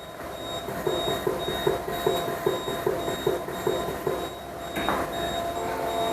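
An anesthesia workstation switched on, a rapid rhythmic series of mechanical clicks and pulses over steady high electronic tones, ending in a louder whooshing burst, close and alone.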